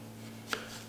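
One crisp knife cut through a lemon on a cutting board, a single short slice set against a steady low hum in a kitchen.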